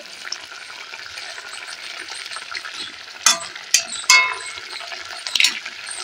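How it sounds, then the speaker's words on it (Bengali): Hog plums are stirred in a pan with mustard paste water, a soft steady simmer and sizzle punctuated by several sharp clinks of a utensil against the pan. "সর্ষে বাটার জলটা দিয়ে দিলাম প্রথম। এবারে এইভাবে নাড়াচাড়াটা করে নেব।"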